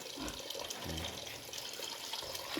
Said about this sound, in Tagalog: Nagpapa lagay din ako ng tubig dito kasi nga ibubuhos ko doon sa lilinisan ko pa yun sa dulo